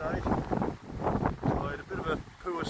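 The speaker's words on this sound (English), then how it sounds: "it's a really windy morning" Gusty wind on a Gran Canaria morning buffets the microphone in heavy, rolling waves, loud and close, with a voice barely showing through.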